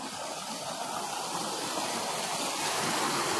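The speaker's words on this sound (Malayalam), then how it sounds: "ഇവിടെ വെള്ളം ഇപ്പോൾ ഫില്ലായിക്കൊണ്ട് ഇങ്ങനെ നിറഞ്ഞു ഒഴുകിക്കൊണ്ടിരിക്കുന്നത്." Water rushing over rocks at a landslide site in Kerala makes a continuous broadband roar, steady and fairly close, with no voices over it.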